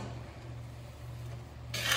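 Pancit canton noodles are stirred in a pan with a fork, a soft continuous rubbing and scraping that swells into a louder scrape at the end.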